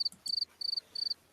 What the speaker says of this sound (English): we're gonna add crickets